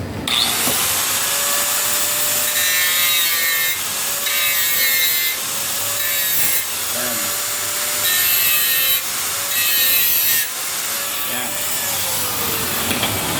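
A power tool grinds into the wood of a sliding window frame to open a hole for a screwdriver, a loud, close, harsh whine that comes in repeated bursts with short dips between them.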